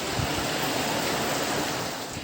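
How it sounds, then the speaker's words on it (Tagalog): Steady rushing surf, a continuous broad wash of breaking waves with no pauses and no voices, at Tacloban, Leyte, in the Philippines during stormy weather with strong rain and wind. "na sinabayan din ng pagtaas ng mga alon."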